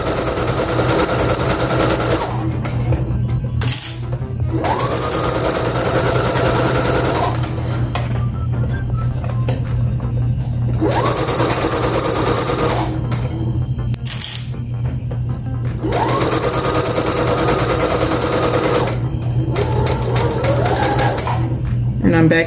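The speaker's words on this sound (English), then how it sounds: "I'm just going to do maybe 1 set of stitches just to make sure that I'm getting this" Sewing machine stitching a ruffle onto baby sarouel pants, running in several steady bursts of a few seconds each with pauses between, close and loud over a constant low hum.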